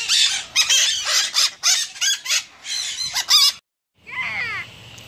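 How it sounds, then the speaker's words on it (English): Harsh, repeated squawks and squeals from a mitred conure parrot, a rapid series of loud close calls, a brief pause, then a lower rasping burst. "Mitred conures are some of my favorite birds."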